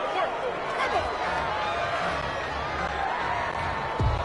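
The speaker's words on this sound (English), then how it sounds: "This home crowd, they're happy with that call." A home stadium crowd in a football video game cheers a penalty call, a steady, fairly distant roar of many voices with a few whoops rising above the din.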